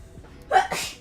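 A single short human sneeze, close and moderately loud, with a quick intake followed by a sharp burst, heard alone in a quiet room.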